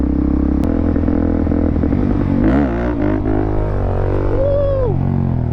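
A supermoto motorcycle rides close by, its engine droning steadily with rising and falling pitch and some clattering, loud and continuous throughout.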